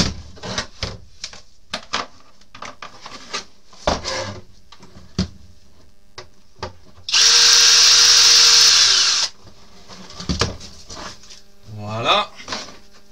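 Cordless power drill on an RC car body, one sustained whir of about two seconds with light clicks and handling noises around it, and a voice talking between bursts.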